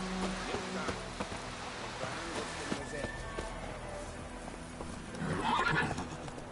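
Horse hooves clip-clop at a steady galloping rhythm in a PS4 game, continuous and mid-distance, with a brief whinny near the end over game background sounds.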